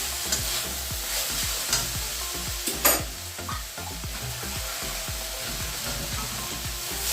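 Minced meat sautéing in a pan on a gas stove, a steady loud sizzle with repeated scraping and stirring strokes of a spoon against the pan, no voices.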